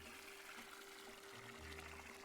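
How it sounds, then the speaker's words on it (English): Water fills a watering can in the cozy garden game Wanderstop, a steady broadband pouring rush that runs evenly for the whole stretch at moderate, close level, with no talk over it. "Let's fill that watering can."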